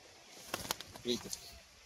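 Pigeons in a pigeon house, with a hen settled on her nest, give soft, brief coos and bird calls in short bursts, fairly near, with faint background noise between them.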